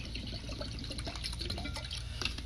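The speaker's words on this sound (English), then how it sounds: "I'll just pour it out." Antiquing glaze for furniture restoration poured out of its container into another one, a steady close trickle and drip of thick liquid with no one talking.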